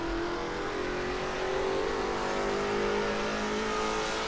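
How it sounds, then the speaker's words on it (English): A 1966 Can-Am race car's powerful V8 in the Assetto Corsa racing game roars steadily at high revs, a continuous loud engine drone with slight pitch shifts and no voices. "that roar of a powerful V8 engine, it's just amazing"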